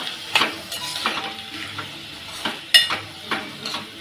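Field bean and potato usal being stirred and mixed in a pan, with repeated close metallic scrapes and clinks of a spoon over a light sizzle, in uneven strokes.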